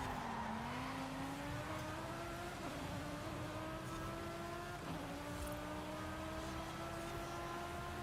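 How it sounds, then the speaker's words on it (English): Race car in a video game driving with a steady, rising engine drone and slight pitch shifts over about eight seconds, fairly quiet and with no one talking. "This car races pretty well."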